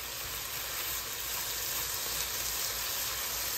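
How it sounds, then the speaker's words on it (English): Rasseroni noodles toasting in a pot for one-pot Mexican cheese rice give off a steady, close sizzle and hiss of frying, constant and unbroken throughout with no voices. "So we're gonna go ahead and toast up our rasseroni."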